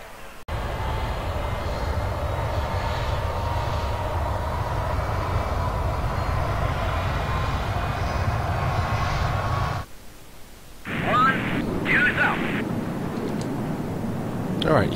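A steady jet engine drone from an F-105 cockpit in the Wings over Vietnam flight game, loud and constant with a high whine, cutting out abruptly partway through before sound resumes with brief bursts; someone talks over it.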